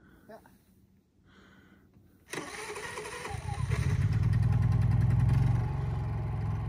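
A Honda EU3000 generator cranks and catches partway through, then settles into a steady, fairly quiet running hum that swells briefly, after a stretch of near silence.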